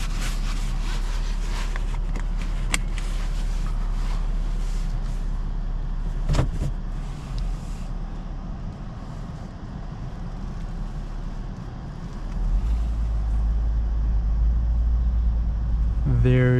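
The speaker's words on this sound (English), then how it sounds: "Let's take it for a quick drive," A 2025 Lexus IS with all-wheel drive cruises along with a soft, steady engine and road hum from inside the cabin, with a brief thump partway through and a deeper rumble near the end.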